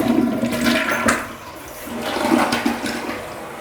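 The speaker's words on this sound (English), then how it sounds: "Now I'm going to give it the first flush." A newly installed toilet's first flush up close, a loud rushing gurgle of water swirling and draining, surging twice before settling into a softer refill hiss.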